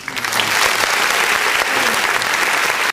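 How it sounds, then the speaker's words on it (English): A studio audience bursts into steady, loud applause that holds for about three seconds and then stops abruptly, with no talking over it. "Finish the clap."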